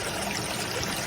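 Water flows through an empty gold sluice box, a soft, continuous rushing trickle that runs evenly through a brief moment.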